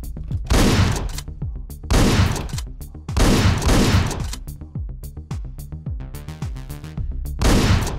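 Rapid gunfire blasts, shotguns among them, from the video game Hotline Miami, loud and dense, one shot after another with hardly a pause, over a driving synth soundtrack.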